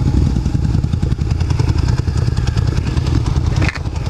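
A Suzuki SV1000 motorcycle with dual exhaust runs steadily nearby, a loud continuous low engine rumble with a slight dip near the end.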